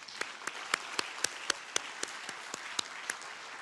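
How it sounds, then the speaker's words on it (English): Audience applause at the ASEAN chairmanship handover ceremony, honouring Malaysian colleagues: a sparse, light patter of individual claps at a fairly steady rhythm, moderately distant and soft, with no voices over it. "Please join me in giving our Malaysian colleagues a well-deserved round of applause"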